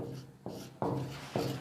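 Chalk or marker writing on a board during a math lesson, a few quiet scratchy strokes in short bursts, close by and with no talk over them.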